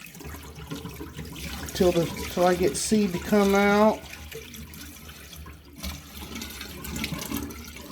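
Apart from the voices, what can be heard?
pouring rinse water off soaked wheatgrass seeds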